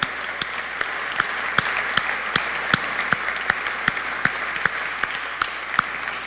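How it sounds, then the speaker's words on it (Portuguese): A church congregation claps together in a steady, rhythmic beat during a worship service, sharp regular hand claps standing out above a continuous wash of clapping, with no talking over it. "Aplauda bem forte o nome do Senhor."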